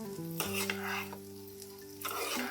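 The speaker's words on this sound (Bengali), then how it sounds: "মশলার সাথে আলুগুলোকে খুব ভালো করে মিক্স করে নিলাম।" Potatoes being stirred into a spice paste frying in oil in a pan for a capsicum aloo dum curry, with a steady sizzle and scraping spoon strokes close up, and no talk.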